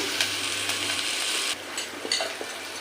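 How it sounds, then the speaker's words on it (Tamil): Onions sizzle softly in a pan, being stirred, with scraping strokes and a few sharp clicks of a spoon on metal over a continuous crackle. The sound drops suddenly partway through. "நம்ம நல்லா கலக்கி விட்டுக்கோங்க வெங்காயம் நல்லா வதங்கட்டும்"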